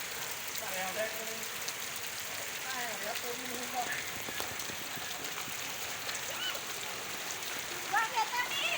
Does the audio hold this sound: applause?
no